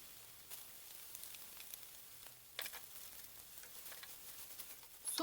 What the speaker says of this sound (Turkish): Rengi çıktıktan sonra üzerine soğanlarımı ekliyorum.